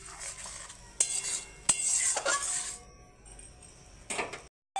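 A spoon stirs fried onion paste into frying spices in a pan for a potol chingri curry, with metallic clinks and scrapes over a low sizzle before a brief silence.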